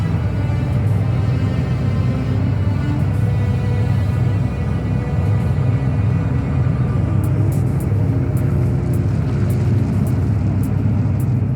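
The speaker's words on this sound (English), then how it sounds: "Bring engines to speed and move out." Spaceship engines power up in a Homeworld: Deserts of Kharak game cinematic, a loud, continuous low rumbling drone that holds steady throughout, with faint higher crackles toward the end.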